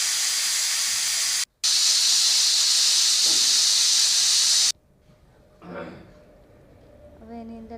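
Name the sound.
pressure cooker whistle releasing steam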